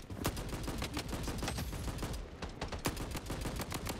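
Rapid AK-47 assault rifle hipfire bursts in the shooter game Blood Strike, a dense string of loud, sharp shots with only a brief pause partway through.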